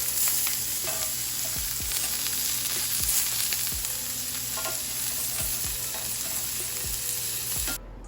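Mushroom steaks sizzle steadily in a hot skillet, a dense continuous fry with occasional scrapes and stirring knocks throughout, no talking.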